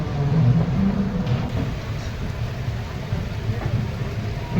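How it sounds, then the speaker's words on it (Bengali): Steady rain pours down in a continuous hiss, heard aboard a train out of Howrah, with low rumbling underneath and a faint voice briefly murmuring in the background. "ভালোই এলো বৃষ্টিটা"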